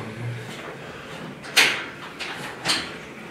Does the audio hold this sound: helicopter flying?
no